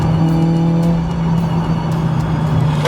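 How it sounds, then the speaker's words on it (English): Track-focused Honda Civic Type R FN2 with a K20 VTEC engine, loud close-up engine drone holding a steady high pitch, then dipping and shifting near the end. "When you imagine a K20 or a VTEC Honda built engine, this is exactly what you imagine."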